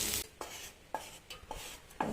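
Thoothuvalai leaves sautéed in a pan for chutney, with a spatula scraping and stirring in rhythmic strokes over a faint sizzle, close and clear, with no talking.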